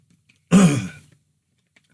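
A single short, loud throat clear from a man, close to the mic, surrounded by silence.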